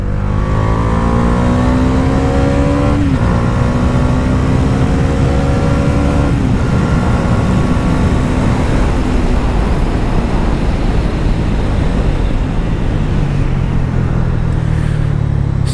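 A 2024 Bajaj Dominar 400 Touring motorcycle engine revs hard and accelerates, its rising whine climbing in pitch through repeated gear changes, loud and close throughout.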